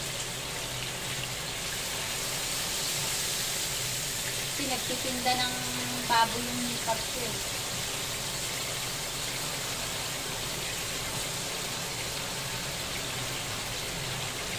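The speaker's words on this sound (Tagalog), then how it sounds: "Lakas ng ulan. Naririnig sa ano ng bubong namin sa kusina." Steady hiss of heavy rain drumming on a kitchen roof fills the background while a person speaks briefly over it.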